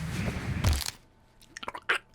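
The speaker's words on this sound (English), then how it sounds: "Oh, crunchy bones" Bones crunching underfoot in the game Scanner Sombre, a short cluster of brittle crackles and snaps followed after a pause by a few sharper quieter crunches, with no voices.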